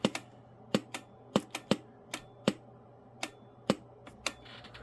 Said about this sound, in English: Relay's just chattering.